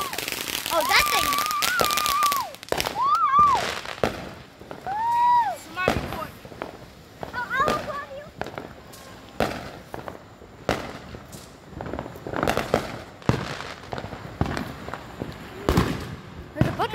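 Fourth of July fireworks and firecrackers go off in a steady run of sharp pops and bangs, some near and loud, with whistling rockets early on and a few scattered voices in the background.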